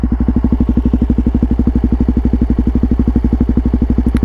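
A Suzuki DRZ400 motorcycle engine idles at about 1400 RPM, a loud, close, steady thumping pulse with an even rapid rhythm and no voices.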